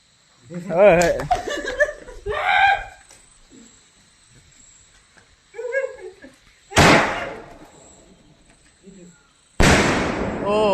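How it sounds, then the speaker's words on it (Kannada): Voices chatter and laugh, then two sharp, loud whooshing bursts of a sky shot firework go off a few seconds apart. "ಈಗ ಸ್ಕೈ ಶಾಟ್ ಓಪನಿಂಗ್ ಆಗ್ತಾ ಉಂಟು"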